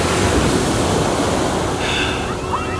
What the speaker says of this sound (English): Crazy waves out here.